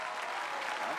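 Audience applause in a theatre during a Beijing crosstalk comedy performance, a brief, steady burst of clapping from the crowd at moderate loudness.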